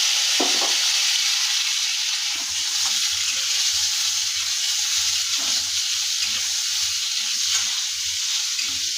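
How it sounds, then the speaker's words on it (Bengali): Mango pieces coated in salt and turmeric frying in hot oil with whole spices, a bright steady sizzle with low rhythmic stirring thumps underneath. "তখন আমি এই আমগুলো তেলের মধ্যে দিয়ে দেবো"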